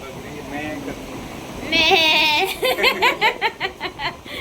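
A voice imitates a goat, giving a close, loud run of quavering bleats in quick pulses after a stretch of laughter and talk.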